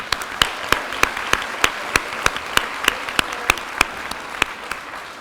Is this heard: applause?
yes